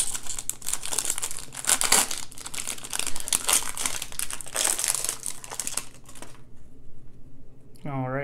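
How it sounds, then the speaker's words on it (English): Thick 2021 Bowman Draft Jumbo trading card packs are torn open, making loud, rapid crinkling and ripping of wrappers, continuous for several seconds before a sudden stop and a voice at the end. "I am going to go through the paper very quickly because these are super thick packs."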